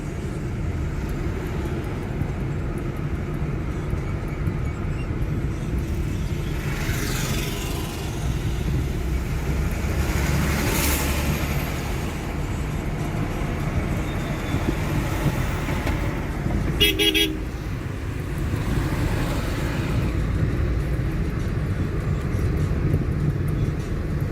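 Hyundai i20 Sportz petrol car cruising on a highway, a steady low engine and road rumble from inside the cabin with constant tyre and wind noise and a brief louder whoosh partway through.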